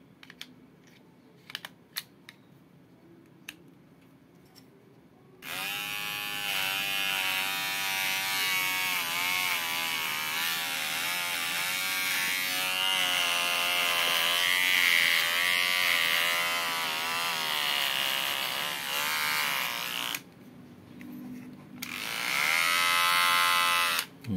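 A battery-powered Blueidea electric razor, previously dead, runs under test with a steady close buzz for about fifteen seconds, stops briefly, then starts again; faint clicks and handling come before it, and no one talks.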